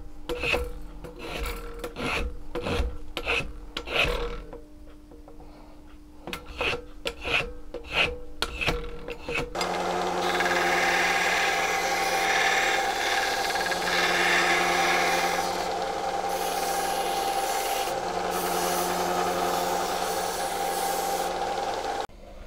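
A hand rasp files a wooden sword handle, quick rhythmic scraping strokes, close and sharp. Then a steady loud whirring tool noise takes over and runs continuously to the end.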